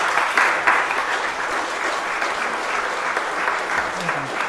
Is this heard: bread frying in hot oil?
no